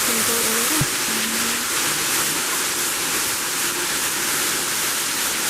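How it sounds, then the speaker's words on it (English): Kursunlu Waterfalls, the Seven Falls in Turkey, pour about 50 feet off a cliff into a chain of connected pools, a dense, steady roar of falling water, broad and constant, with no voices heard. "Kurnsunlu Waterfalls, also known as the Seven Falls, because there's about 7 different falls here that plummet about 50 feet off the cliff"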